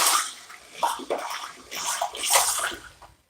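A drywall tool caked with mud is swished and rinsed in a small bucket of water, giving repeated splashing, sloshing bursts at close range with no talking.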